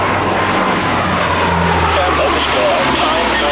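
A big aeroplane flying a display at the 1995 Fairford Airshow gives a loud, continuous engine roar throughout, with voices talking over the noise.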